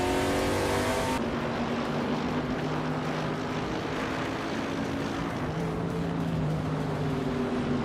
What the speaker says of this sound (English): Pippi Langstrom is driving a 2017 Norma M30